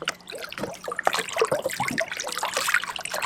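A smallmouth bass caught while fishing in Ontario is released back into the water, bringing splashy, trickling water sounds that run continuously and close, with no talk.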